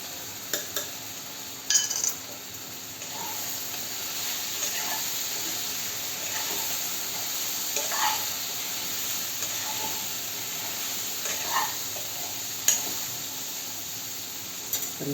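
Cumin seeds and coriander fry in oil in a pan, giving a steady soft sizzle and hiss with occasional stirring clinks against the metal.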